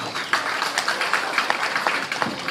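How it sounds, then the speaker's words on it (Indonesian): Applause from the audience at the inauguration of a historic site in Papua, a short burst of scattered, moderately loud clapping. "Izin tepuk tangan untuk kita semua"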